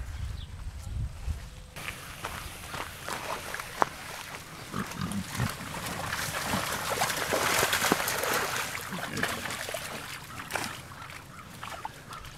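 Tamworth pigs grunt and snuffle close by as they root into squash and pumpkin, with steady chewing, crunching and shuffling throughout.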